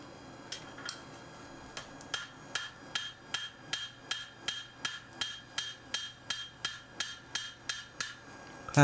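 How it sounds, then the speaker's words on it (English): Steady hand hammer blows forging a chopper hand axe on an anvil, about two per second, sharp and close, with a metallic ping on each strike. "good old fashioned hammer work"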